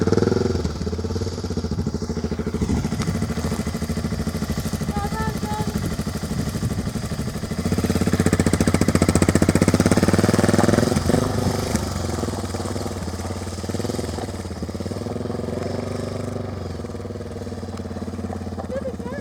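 A motorcycle engine runs loud and close on rough Mongolian terrain, its drone swelling as it pulls away. Voices are heard briefly at the start.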